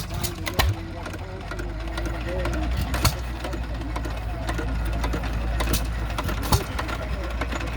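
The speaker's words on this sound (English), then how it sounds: "You can hear the hit and misses running in the background." Antique hit and miss engines at a tractor show keep up a steady mechanical chugging with intermittent sharper firing pops, sounding at a middle distance, while someone talks over the running engines.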